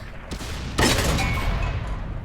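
A tank cannon fires in World of Tanks with one sharp, loud blast that rolls into a rumbling tail over steady engine noise.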